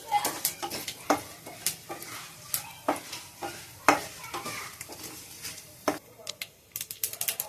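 Chana dal, curry leaves and asafoetida fry in a pan with a steady sizzle, punctuated by repeated sharp clinks and scrapes of a spoon stirring against the metal, close and fairly loud.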